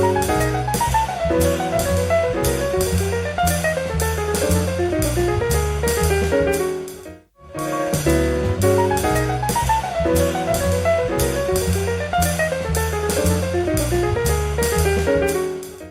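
A jazz pianist plays a piano solo on an original recording, with fast, dense jazz runs and chords over bass and drums, continuous and full, with one brief break midway.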